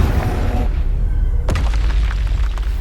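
A close, loud fire-spell blast, Confringo, during a Hogwarts Legacy fight. The boom cuts through continuous rumbling combat noise, with a sharp crack near the middle.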